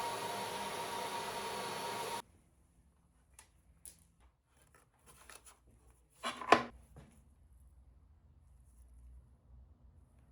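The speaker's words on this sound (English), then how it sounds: "I'm going to clean the threads and try to vacuum it out" A vacuum hums steadily as it pulls rust out of the spark plug threads on a 43 HP 1968 boat engine, then cuts off abruptly, followed by faint scattered clicks and a brief scraping rattle.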